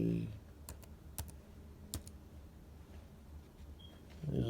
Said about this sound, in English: Then you just type in auto orders.